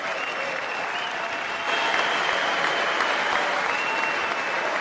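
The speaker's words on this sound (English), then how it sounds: "Clapping, clapping, clapping continues." An audience at the State of the Union claps steadily. The applause is loud and dense and builds partway through into fuller clapping, with no speech over it.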